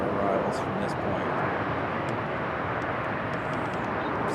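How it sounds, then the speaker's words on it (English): An Airbus A321 touches down at Raleigh-Durham International Airport, a loud, steady roar of jet noise washing across the whole stretch without fading. Faint, brief sounds rise now and then above the roar. "A321 touching down."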